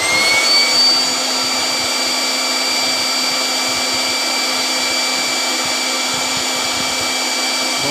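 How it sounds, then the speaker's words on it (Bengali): A blower machine powered by a battery-less pure sine wave solar inverter, running at a steady, loud, high-pitched whirring roar with a constant hum beneath, alone and unchanging after a brief surge at start. "একটা ব্লোয়ার মেশিন চালাই, দেখলাম লোড ঠিক আছে কিনা।"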